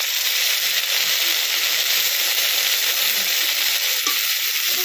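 Ginger-garlic paste ground with cumin, coriander and dried red chilli sizzles as it fries in oil, a loud dense continuous hiss with small crackles throughout and no voices.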